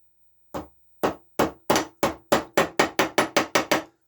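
A small hammer taps a part into place on the underside of a model locomotive, with about a dozen sharp, close knocks that start spaced out and speed up into a quick steady series, separated by silence.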